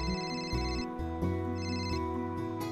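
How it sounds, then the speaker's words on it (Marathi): A phone ringtone rings in a repeating electronic pattern of tones, steady and clear with no voices over it. "पप्प्याचा फोन आहे वाटतं."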